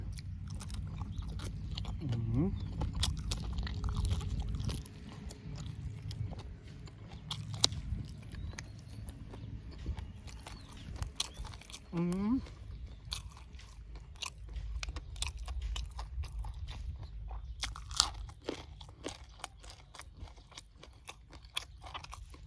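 Crunchy pork face skin, the ear and snout section of a pig's face mask, bitten and chewed up close in steady wet crunches and smacking bites, with no talking.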